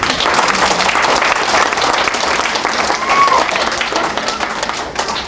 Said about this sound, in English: I'll listen to my first really big round of applause.